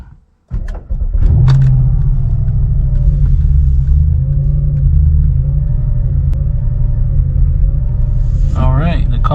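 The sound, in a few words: Audi S5 engine starting up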